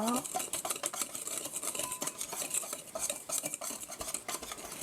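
A utensil stirs lemon cake batter in a bowl with quick, repeated scraping and clinking, fairly quiet and close, with no voices.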